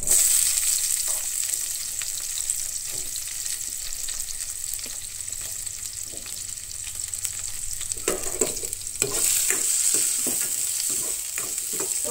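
Garlic and onion frying in a pan for a Goan potato bhaji at home, a continuous hissing sizzle throughout with occasional soft clicks of stirring, growing a little louder near the end, no voices.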